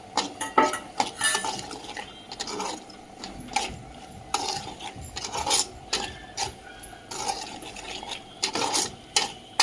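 Spoon scraping and clanking around a pot of mutton curry, a run of irregular metallic scrapes and knocks, close and fairly quiet, with no talking.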